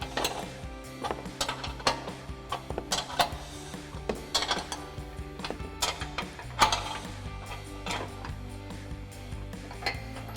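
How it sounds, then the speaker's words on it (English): Wrenches tightening the mounting bolts and lock nuts of a Barricade bull bar with skid plate on a 2007-2021 Toyota Tundra. Repeated metallic clicks and clanks arrive in uneven bursts, fairly close, with steady background hum and no talk. "start to tighten down our mounting hardware using our 18mm wrench for our bolt side and 19mm wrench for our lock nut side"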